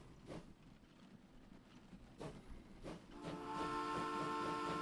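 A train passing through in the Train Fever USA DLC video game, faint rumbling with rhythmic clacks that swell into a steady, louder tonal rolling drone toward the end.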